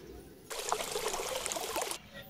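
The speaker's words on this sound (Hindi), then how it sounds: "चलो पानी डाल देती हूँ।" Water poured in a steady trickling stream for about a second and a half, starting and stopping abruptly, close and clear against a quiet room, no talking during the pour.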